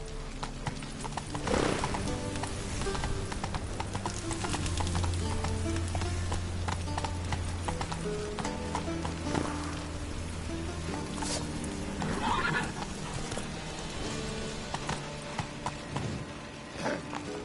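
A horse named Roach gallops with steady rhythmic hoofbeats and lets out a couple of whinnies. The sound is close and fairly loud, with a rain-like hiss behind it and no talk.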